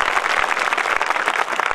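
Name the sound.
audience applause at a political speech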